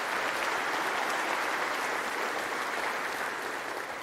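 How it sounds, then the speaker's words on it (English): An audience gives a round of applause for Jay Stroman, a steady, full wash of clapping that holds evenly across the whole stretch and tapers slightly at the end, with no talk over it. "Let's give a round of applause to Jay Stroman,"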